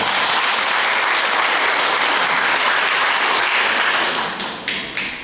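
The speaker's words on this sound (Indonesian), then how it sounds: "Tepuk tangan untuk mereka." A church congregation at an Easter Sunday Mass in Banyumas applauds, loud continuous clapping from many hands that thins out toward the end with a few scattered final claps.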